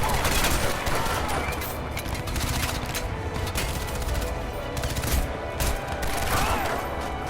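Rapid submachine gun fire in Crysis 2 Remastered, dense continuous bursts of shots filling the mix over game sounds, loud and sustained throughout.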